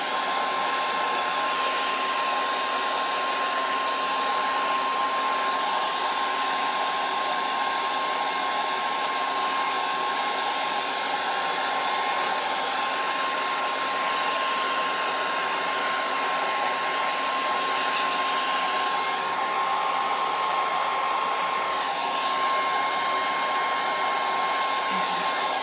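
A hair dryer blows steadily to dry a craft transfer, a loud, continuous whooshing hum that holds unbroken for the whole stretch with no talking.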